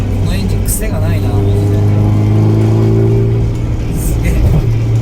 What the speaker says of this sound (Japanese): いやでもこのエンジン癖がないな。